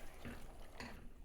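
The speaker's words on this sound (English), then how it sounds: "I'll just add a little bit of water to it." Water pours faintly into a pot of jollof rice, a soft steady trickle with a couple of gentle splashes, quiet and close with no voices.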